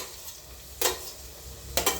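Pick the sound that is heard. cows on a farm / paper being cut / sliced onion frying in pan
sliced onion frying in pan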